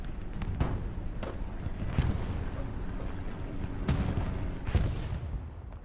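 Enemy gunfire crackles across a World War II battlefield game: several sharp scattered shots and booms over a constant rumbling background of combat noise, moderately loud, with no voices.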